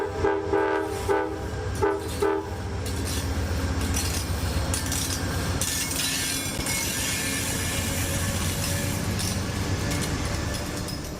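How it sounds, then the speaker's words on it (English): Passenger train pulling out of Rocky Mount station alongside an empty freight train, a steady loud rumble of wheels and rail clatter with a horn blast early on, continuous throughout. "We're pulling out of Rocky Mount at the same time as an empty freight train."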